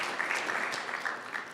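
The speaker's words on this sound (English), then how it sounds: "I think everyone should have a round of applause" Brief applause from the audience at a pre-event press conference for a South African fighting championship, a steady wash of clapping with no speech over it.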